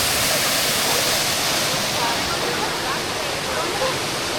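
A waterfall roars up close in Tobago, a steady dense wash of falling water that fills the whole clip at high level without a break.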